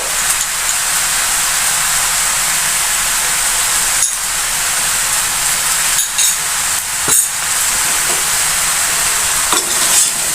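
Spices and salt are stirred through a pan of sour-spicy-sweet olive pickle, a steady loud sizzling hiss with scraping strokes of a spoon and a few sharper clinks, continuous throughout with no talking.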